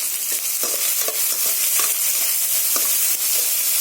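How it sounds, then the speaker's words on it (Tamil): Tomatoes and onions with salt sautéing in a pan for manathakkali vathal kuzhambu, a constant loud sizzle broken by repeated spatula scrapes and stirring strokes, close by with no talk. "தக்காளி வெங்காயம் எல்லாம் நல்லா வதங்கணும்."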